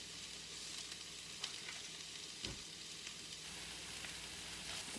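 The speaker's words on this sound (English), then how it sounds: "Now I'm going to add about another tablespoon and a half of butter" Butter sizzling steadily in a hot pan, a soft continuous hiss at close range with faint scrapes and one brief low bump, no talking.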